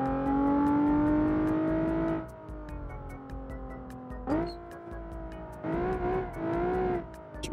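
A stock Nissan 370Z revs hard in the driving game BeamNG.drive, rising to sustained high-pitched wails in several bursts with brief drops between, close and loud with no talking.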